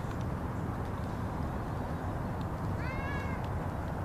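A friendly cat met on an outdoor walk gives a single short meow, clear but brief, against a constant loud rushing background noise.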